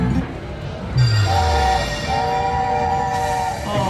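Slot machine train bonus effect in a high-limit casino game: a low rumbling rail sound with bright horn-like tones blaring twice over busy machine ambience.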